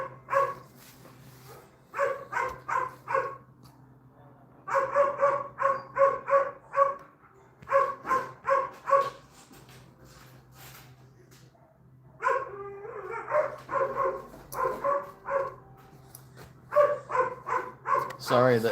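Dogs bark indoors in repeated rapid bursts of sharp yaps and yips, several volleys separated by short pauses over a low steady hum, fairly close and loud.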